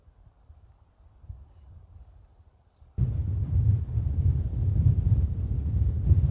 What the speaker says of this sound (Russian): Сегодня солнце, ветерок северный дует до 10 метров в секунду порывы